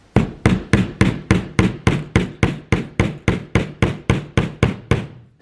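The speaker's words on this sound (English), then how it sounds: "Take my hammer." A hammer drives a nail into a small wooden board for a DIY Christmas gift, with about fifteen steady, evenly spaced, close, sharp strikes and no talking.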